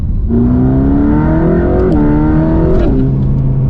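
An 850 hp Mercedes AMG GT Black Series in race mode accelerating hard, a loud, close engine roar climbing in pitch through the revs, with two quick upshifts marked by brief dips in tone.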